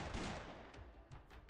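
Gunfire in the game Arknights: a burst of rapid shots followed by a few separate cracks, loud and near, with no speech.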